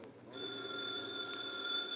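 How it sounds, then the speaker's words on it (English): A telephone rings in a radio detective drama, a steady bright electric bell ring sustained throughout, moderately loud and alone with no voices. "I resisted the impulse to throw the phone out the nearest window and answered it."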